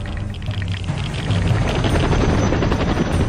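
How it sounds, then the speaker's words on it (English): Steady rotor thrum of a helicopter, loud and close, growing slightly louder partway through, with a broad rushing wash over it. "Clark knew that a helicopter would soon be on the way"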